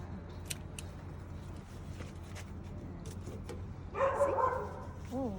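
A dog barks a few times in a quick burst toward the end, fairly close, over a low background hum and faint outdoor noise.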